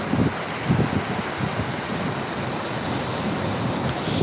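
Ocean surf rumbles and washes continuously at Daytona Beach, Florida during Hurricane Ian, with wind buffeting the microphone, a broad steady roar of waves close by.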